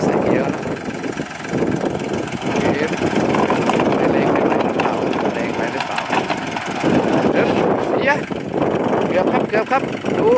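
An Iseki NT540 tractor engine labours steadily to climb out of thick mud, a continuous loud rumble heavily mixed with wind buffeting the microphone, with a few people talking faintly near the end.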